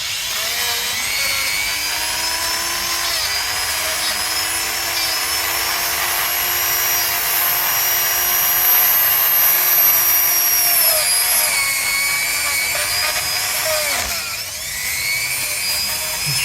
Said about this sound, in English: you just got a Dremel.